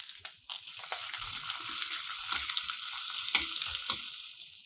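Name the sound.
onion frying in oil for tomato rasam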